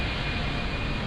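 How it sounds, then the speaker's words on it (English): An aircraft passing beneath an MD-11 in X-Plane 12 flight simulation, heard as a steady, loud broadband engine roar filling the whole moment with no talk. "there's an aircraft passing underneath us"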